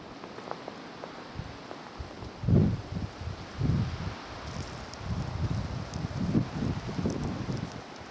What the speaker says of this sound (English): It's mostly the wind that's just blowing the snow pretty much all over the place.